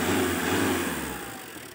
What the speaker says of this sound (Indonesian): mesinnya cukup halus tanpa NLS